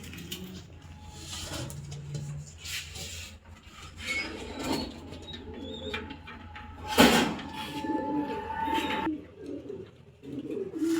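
Pigeons being handled by hand, with soft coos, wing rustles and rubbing sounds close by, and a louder flutter midway; someone talks faintly at times.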